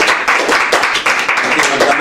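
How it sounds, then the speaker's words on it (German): Audience at a comedy reading event applauds, a dense burst of clapping from many hands that stays loud and steady for a couple of seconds, with a few voices mixed in. "Ihr dürft klatschen."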